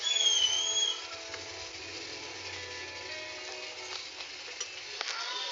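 Desiccated coconut sizzles and crackles softly while being toasted in a pan, a steady faint frying hiss with scattered stirring scrapes, after a brief high whistle-like tone at the start.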